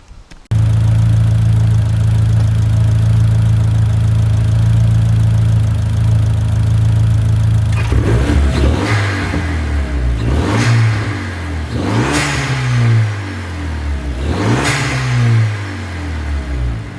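A car engine fitted with a new induction kit starts up and idles steadily, then after a few seconds is revved repeatedly in several rising and falling bursts, loud and close with no talking.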